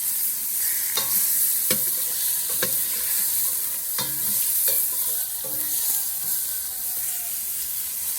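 Pumpkin pieces toast in a hot pan with a steady close sizzle, punctuated by several sharp scraping strokes of a utensil as it is stirred, heard alone.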